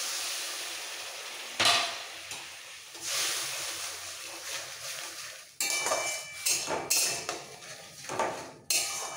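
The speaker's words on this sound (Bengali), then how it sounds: "এবার একসাথে একটু কষাবো। আর এই সময় দিয়ে দেবো সামান্য একটু জল।" Spice masala stir-fried in a pan with a splash of water for egg devil chops, giving a steady hiss and sizzle punctuated by several sharp scraping clinks of a utensil against the pan, close and fairly loud.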